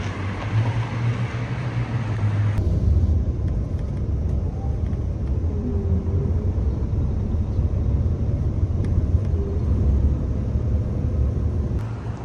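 A car drives through a downtown area on a workday morning, heard from inside as a steady low engine and road rumble without voices.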